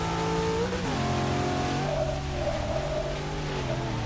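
A 2002 Nissan GTR tuned for Class A racing in Forza 6 roars loudly throughout, its engine note climbing through gears with pitch swoops as it accelerates out of turns, with faint tire noise.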